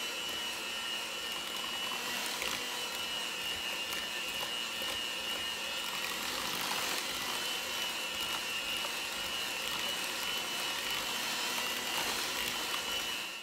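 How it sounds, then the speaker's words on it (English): An electric hand mixer working flour into chocolate cookie dough, giving a steady, unbroken motorized whir that stays close and even for the whole stretch, with no voices. "I started with 1 cup of flour and mixed it well with the hand mixer."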